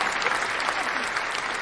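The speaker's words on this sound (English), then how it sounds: "You get an applause, Nick." A studio audience at a live Boxing Day football talk show breaks into steady, dense applause that fills the whole short stretch without letting up.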